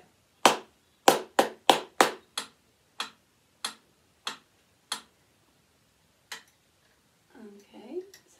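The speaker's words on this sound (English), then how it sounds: "I want you to follow what you've written down with your finger while I'm clapping" A string-class teacher claps out a rhythm alone: a quick cluster of sharp, close hand claps, then evenly spaced single claps trailing off, followed by a brief hum of voice near the end.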